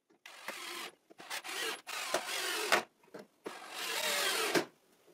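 A power driver sets screws through armrest supports into the front legs of a wooden Adirondack chair, with several close bursts of whirring, each a second or two long, separated by short pauses and clicks.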